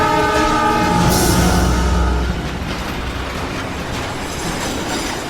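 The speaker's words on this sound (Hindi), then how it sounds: "ट्रेन आ रही है, ट्रैक से हट जा मेरे दोस्त!" A train thunders close by with a loud, sustained horn blast over rumbling wheels and clattering cars, the horn cutting off as the rolling noise continues steadily.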